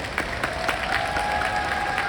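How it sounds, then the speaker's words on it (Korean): An audience at an outdoor open talk at the Busan International Film Festival claps in a steady, dense round of applause, with a faint thin tone ringing steadily beneath it. "박수 부탁드릴게요"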